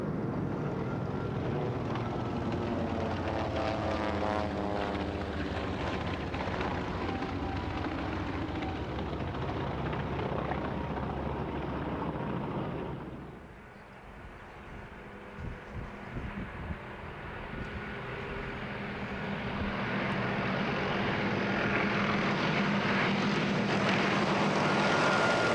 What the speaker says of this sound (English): World War II fighters from the Grumman Ironworks. F-3F, Wildcat, Avenger, Hellcat, Tigercat and Bearcat.